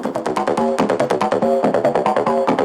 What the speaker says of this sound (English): There's your acid 303